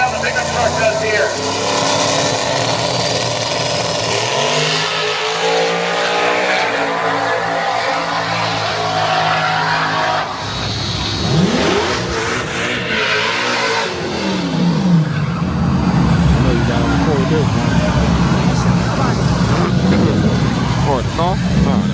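Turbocharged pickup truck roll racing at Rockingham Dragway, its engine revving hard and rising in pitch as it accelerates down the strip, then fading, with other race engines and an announcer talking over the track noise.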